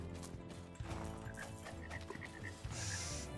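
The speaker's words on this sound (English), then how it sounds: "My frog has died again!" A frog in the farming video game Pesticide Not Required croaks in a quick run of bubbly, repeated calls over looping game music, fairly faint overall.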